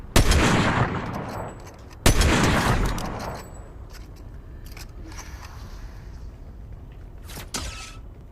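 Sniper rifle shots in the Fortnite video game, two loud sharp blasts each trailing off into a long echoing decay, followed later by a fainter distant shot.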